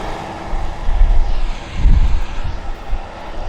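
A USAF heavy military aircraft from Fairchild Air Force Base arriving at Abbotsford, a loud low engine roar swelling and fading in waves, with some wind buffeting the microphone.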